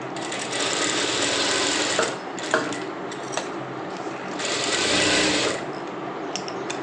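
A sewing machine stitches a lined blouse in several short whirring runs, the longest at the start and another near the end, with brief gaps and small mechanical clicks in between.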